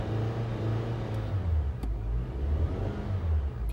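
A Honda engine revs up and down after its throttle body was cleaned with carb cleaner, running rough with misfires, a loud, steady low rumble that swells and eases across the clip with no talk.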